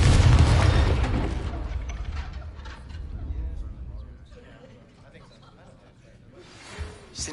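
A spell explosion in Hogwarts Legacy bursts with a loud, deep boom at the start, then rumbles and fades over several seconds, with a smaller swell near the end.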